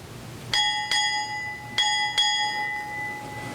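At a US Navy change-of-charge ceremony, a ship's bell gives four bright strikes in two pairs, each ding ringing out and sustaining, with quiet between the pairs.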